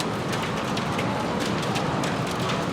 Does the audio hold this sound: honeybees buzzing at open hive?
no